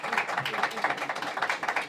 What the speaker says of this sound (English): Our CEO, Mohammed Sawar, everyone give him a round of applause.